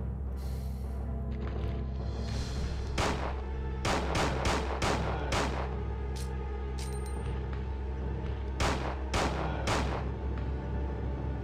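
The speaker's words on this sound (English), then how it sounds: "Just keep dumping grenades into him." A grenade launcher in the PS1 game Resident Evil 2 fires repeatedly, with sharp, loud blasts in irregular bursts over a constant low background drone.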